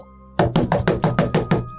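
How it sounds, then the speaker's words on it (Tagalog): Loud knocking on a door: eight heavy, evenly spaced knocks in quick succession, close and alone with no talking. "Biglang may malakas na katok sa pinto."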